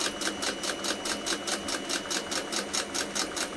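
Sewing machine stitching a leather notebook cover, running at a steady, even pace with a rapid rhythmic needle clatter, close and continuous with no talking.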